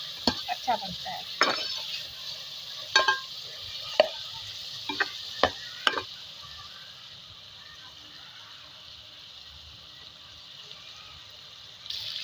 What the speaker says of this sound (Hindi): अब इसके साथ थोड़ा सा फ्राई करेंगे चिकन को।